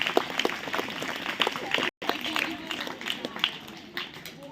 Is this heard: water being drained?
no